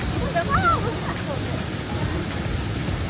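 Waterfall in Marrakech, a constant broad rushing roar of falling water that fills the whole stretch, with a voice briefly heard over it.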